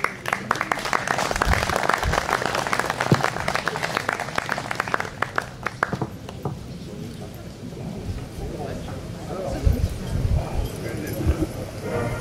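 Crowd applause at a 2023 shooting club festival as the newly proclaimed club king steps forward, a dense burst of clapping for about six seconds that fades into murmuring and scattered noise.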